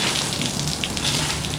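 Water spills off a sagging, rain-filled tarp on a sailboat under rebuild, a steady splashing gush close by that runs without a break for the whole stretch.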